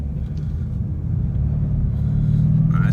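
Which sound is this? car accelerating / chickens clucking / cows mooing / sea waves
car accelerating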